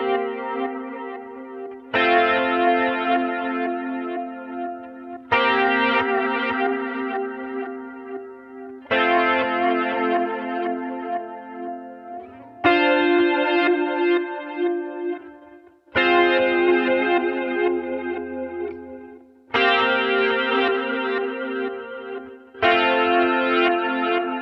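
Guitar played through a budget multi-effect unit on a lush sound-design patch with chorus and echo, a series of strummed chords every few seconds, each swelling and decaying into shimmering repeats.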